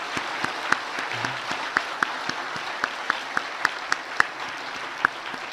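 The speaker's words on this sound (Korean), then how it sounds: "우리 다시 한 번 더 큰 박수로 축하하겠습니다." A church congregation claps for new members completing a four-week course at a Sunday service, with scattered individual hand claps rather than a dense roar, steady and moderately loud across the room.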